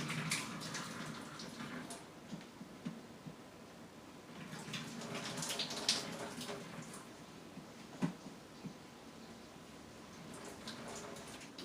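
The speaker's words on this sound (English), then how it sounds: "So I'm gonna strain this off now." Cooked pasta for a shrimp vodka pasta dish is drained, with water pouring and splashing steadily into a sink through a strainer for several seconds, along with a few clanks and sharper knocks, close by.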